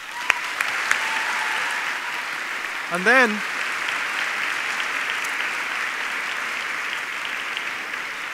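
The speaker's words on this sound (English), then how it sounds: "we'll give a clap to your previous winners" Audience at a science and technology exhibition awards ceremony applauds steadily for earlier winners, a dense continuous wash of clapping that holds the whole time, with a brief spoken word cutting through near the middle.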